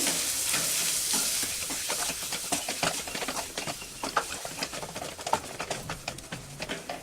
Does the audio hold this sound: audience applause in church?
no